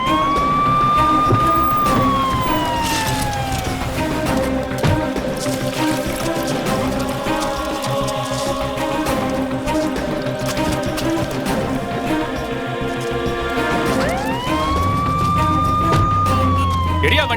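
An ambulance siren wails loudly and close by, sweeping up at the start, holding under a busy mix of other sounds, then sweeping up again near the end, in a Tamil-dubbed crime thriller.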